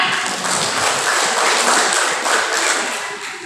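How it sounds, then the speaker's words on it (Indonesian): An audience of teachers claps at a PGRI seminar in Kubu Raya, a loud crowd of hand claps that rises and falls in uneven bursts with no talking over it. "tepuk tangan untuk kita semua"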